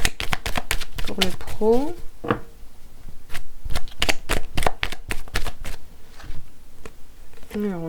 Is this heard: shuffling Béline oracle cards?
yes